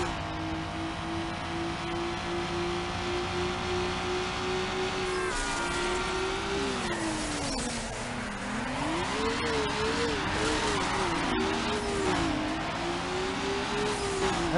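A Mazda racing in Need for Speed Underground, its engine droning steadily and then revving up and down in swooping pitch changes, loud and continuous with no talk.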